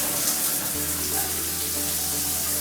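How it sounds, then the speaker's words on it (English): Water pours steadily from an overhead rain shower head in a tiled shower, a continuous hissing spray splashing nearby with a low hum underneath. "Okay, nice little rain head."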